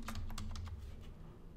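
A computer keyboard typing a password during an Elasticsearch and Kibana access setup with AWS Cognito: a quick burst of close key taps that fades into quiet after about a second, with no voice.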